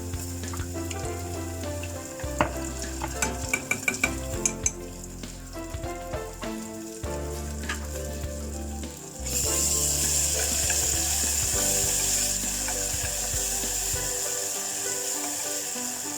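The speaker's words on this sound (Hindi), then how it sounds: "अब ऑनियन को फ्राई करते हैं लाइट ब्राउन कलर तक।" Chopped onions fry in a pan until light brown for a chole curry, giving a steady close sizzle that swells louder partway through, with clinks and scraping stirs in the first half.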